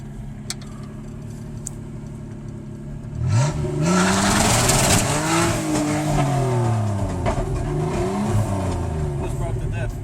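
A truck engine idles quietly, then revs hard with loud climbing and falling surges as the differential breaks, the roar sustained and close, with voices talking amid it.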